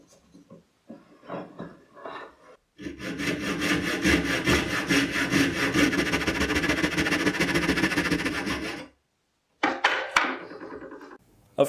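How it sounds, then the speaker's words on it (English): A bandsaw cuts a small wooden cross for a necklace, making a loud, steady buzzing rasp for about six seconds close up, with quieter handling knocks before and after and no talk. "I'm using a bandsaw, but if you don't have one, a coping saw or a jeweler's saw will work just fine."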